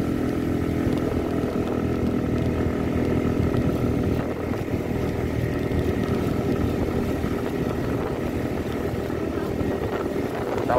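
A Suzuki Address 110 scooter climbs a hill on a mountain ride, its small engine droning loud and steady throughout with rough, buzzing texture and wind noise.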